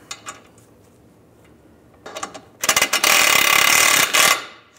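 A ratchet snugging down a front lower control arm bolt on a Volkswagen Beetle: a few scattered clicks, then a loud, fast burst of ratcheting close up that runs for over a second before stopping.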